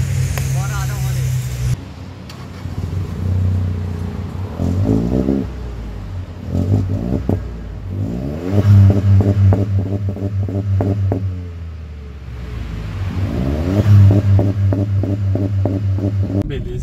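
VW Up TSI engine humming and revving in throbbing surges as the small car pulls away, with people talking over it inside the cabin.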